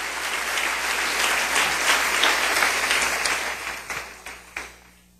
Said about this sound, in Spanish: denle otro aplauso al Rey bendito